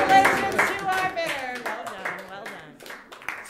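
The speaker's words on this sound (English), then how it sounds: "Let's give a big round of applause" An auction audience applauds the winning bidder, with steady hand clapping running throughout, mixed with and partly masked by someone talking over it.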